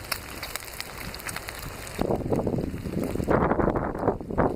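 Relentless outdoor wind gusts across a microphone during breakfast cooked on DIY IKEA stoves, starting mild, then surging into loud, broadband buffeting that swells and rises toward the end.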